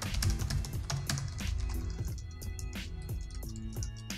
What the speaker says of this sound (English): I'm just gonna do some typing so you can hear how it sounds.